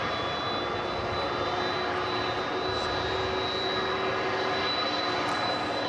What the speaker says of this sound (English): This is the 767. It's going to Louisville, Kentucky.